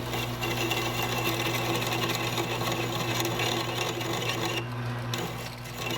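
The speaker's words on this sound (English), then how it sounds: "I'm using a cutoff tool, a parting tool, to take basically the excess part of the ring off" A lathe runs with a steady hum while a parting tool cuts a stainless steel ring, giving a continuous buzzing, rasping grind close up that dips briefly near the end.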